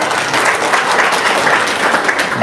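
An audience at a business talk breaks into loud, dense applause, a continuous close wash of many hands clapping for the whole brief stretch.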